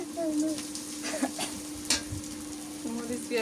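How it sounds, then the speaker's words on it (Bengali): Chili and onion frying in a pan for a fish and pointed gourd curry give off a faint, soft sizzle with light stirring scrapes over a steady low hum. "মরিচ পেঁয়াজ ভাজা হয়ে গেছে"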